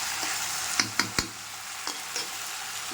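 Meat sautéing in a pan, a continuous close hiss of frying with a few sharp clacks of a stirring utensil against the pan near the start and quieter ones later.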